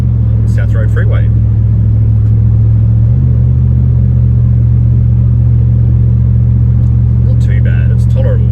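Nissan Y62 Patrol fitted with a Manta cat-back exhaust cruising at 100 km/h in fifth gear on a freeway, a loud, steady low engine drone and rumble inside the cabin, with someone talking briefly at the start and end.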